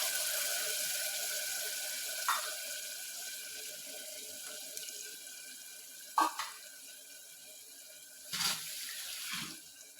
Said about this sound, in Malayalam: പുളി നമ്മുടെ ആവശ്യത്തിന് ഒഴിച്ചു കൊടുക്കാം